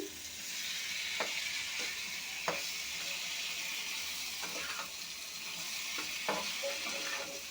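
Drumstick pieces with salt and turmeric powder frying in a pan for a curry, an even hiss of sizzling oil broken by several light spatula taps, no voices.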